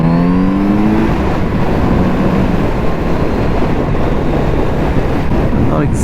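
Kawasaki Z900RS motorcycle rolling carefully over a gravel road, a steady loud engine drone with heavy wind buffeting and crunching tire noise throughout, a brief rising tone near the start.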